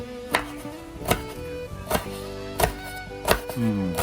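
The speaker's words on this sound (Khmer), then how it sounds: "ឥឡូវខ្ញុំហាន់អំពិលមុនណា" A knife chops firmly through tamarind on a board, five or six distinct strikes at an uneven, unhurried pace, close up with no talking.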